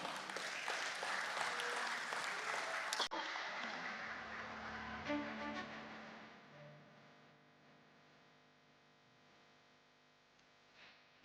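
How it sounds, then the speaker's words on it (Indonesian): Sustained applause from an audience at an Indonesia Stock Exchange IPO ceremony, loud and dense for the first few seconds, then thinning and fading into quieter scattered clapping and room noise. "Mari kita berikan tepuk tangan yang meriah."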